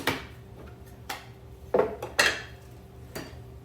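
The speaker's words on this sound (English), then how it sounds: "We're gonna do the next bunch now, which is slicing up mushrooms" Mushrooms are sliced with a handheld cup slicer during meal prep for a Thai coconut soup. Sharp plastic-and-metal clacks land at irregular intervals, about half a dozen close, crisp strikes with quiet gaps between them.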